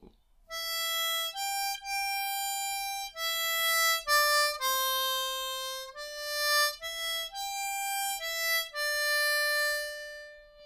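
Harmonica in C plays the opening line of Dvořák's New World Symphony theme, clean sustained single notes in a slow, even phrase, close and clear with no talk.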